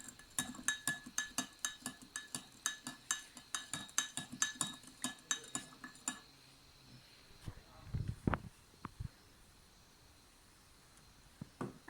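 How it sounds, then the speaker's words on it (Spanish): A spoon stirs a spoonful of salt in a glass of water with quick, bright clinks against the glass, about six seconds of rapid tapping, then a few louder scattered knocks and rattles. "Al vaso número 1 le agregaremos una cucharada de sal, agitamos,"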